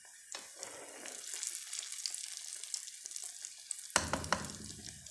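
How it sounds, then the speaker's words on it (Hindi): Potato samosas deep frying in hot oil, a steady bright sizzle that runs throughout and flares loudly near the end as more go into the oil, close up with no talking. "अभी हम 6 ही फ्राई करेंगे"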